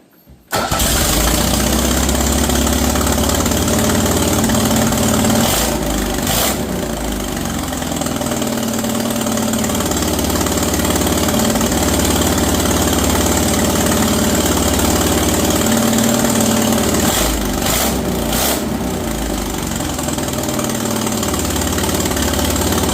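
A project car's engine cranks and fires, then settles into a loud, steady idle that runs close and continuous with a slight uneven pulse throughout.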